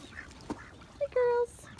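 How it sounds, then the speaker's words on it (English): Khaki Campbell duck hens, or close to that breed, give a short quack followed by a longer, louder nasal call, heard outdoors on a quiet morning. "duck hens. These are khaki Campbells, or close to khaki Campbells."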